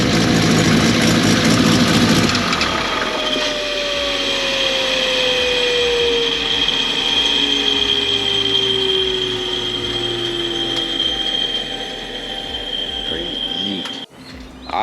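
A Toyota Soarer's 800+ whp 2JZ engine runs loud and close, idling with a steady rumble and a sweeping tone that glides down, then cuts off abruptly near the end while a voice talks over it.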